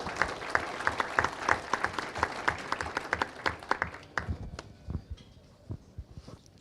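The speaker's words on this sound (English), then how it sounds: "let's give our exhibitors, our sale and show managers and staff, the Ag Committee, and our judges a big round of applause" Audience applause in a hall at a winter farm show, brisk and loud at first with many crisp claps, then thinning out into scattered individual claps and fading toward the end.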